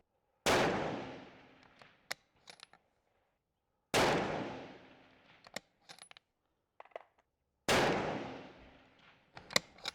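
Rifle fire at an outdoor range while testing loads of reloaded ammunition: three loud, separate shots, each with a long decaying echo, followed by small metallic clicks and clatter.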